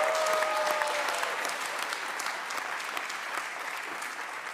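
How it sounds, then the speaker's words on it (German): Audience applause in a German Schlager television show studio, a steady, dense clapping from a large crowd that holds for several seconds and slowly eases off. "Also da klatsche ich auch."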